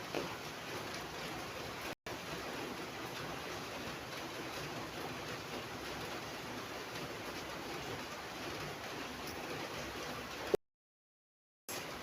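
Rain falls steadily in a soft, even hiss with no distinct drops standing out, broken by a brief dropout and a short silent gap near the end.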